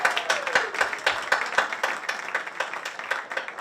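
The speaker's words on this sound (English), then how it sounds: "Let's just give a quick round of applause for all of them here." A small audience claps for panelists at a community event, a close, sparse rhythm of individual claps that stays moderately quiet.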